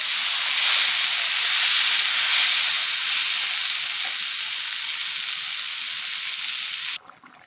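Loud, steady sizzling and hissing as water goes into a pan of frying vegetable stems and tomato for a singi fish curry, continuous and close, cutting off abruptly near the end.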